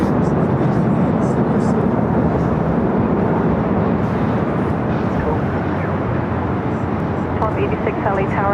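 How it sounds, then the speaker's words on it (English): A United Boeing 787 Dreamliner rolls down runway 25 Right at LAX, giving a loud, steady, broadband jet roar that holds level throughout, with a faint higher whine near the end. "we do have a United Dreamliner rolling down to 25 right"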